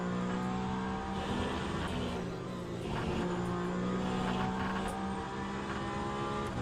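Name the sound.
GTE race car engine in a racing video game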